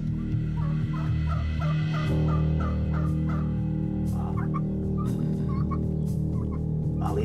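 A turkey gobbles repeatedly in rapid, rattling bursts, loud and close, over a steady low background hum, with no talking.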